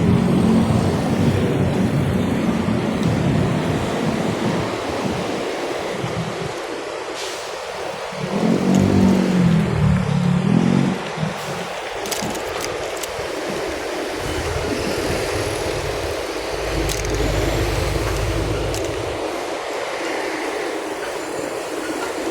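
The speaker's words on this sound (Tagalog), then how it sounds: "Ang traffic sa Rojas Boulevard" Busy road traffic and passing rail cars near Roxas Boulevard in Manila, with continuous low rumbling, a few louder swells as vehicles or train cars pass nearby, and faint squeals, without talk.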